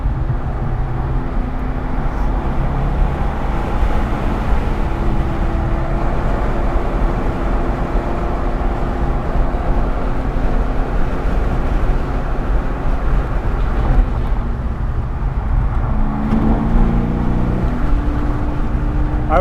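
A VW Gol on a race track roars steadily with engine and road noise, heard from inside the car as a loud, continuous drone that shifts slightly in pitch as it accelerates.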